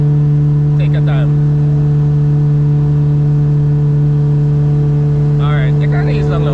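A 2ZZ-GE Corolla race car engine holds a steady, droning tone in second gear while people talk briefly over it.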